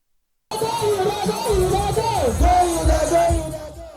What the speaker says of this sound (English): For 4 days, this chant reverberated through the Amore Gardens in Lekki, Lagos State.